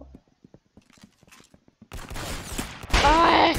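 Rapid bursts of gunfire from a gun in the Roblox shooter Arsenal, starting after quiet clicks and scattered talk-like blips, then loud sustained firing with crackling shots and whooshing game effects.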